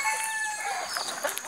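Mixed-breed free-range chickens settling on a perch, with several nearby hens clucking and chirping in quick overlapping calls, fairly close and steady, no talking.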